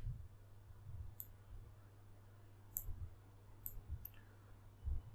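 Computer mouse clicks while editing and cropping an image in Figma, a few small crisp clicks spaced out over a quiet room hum.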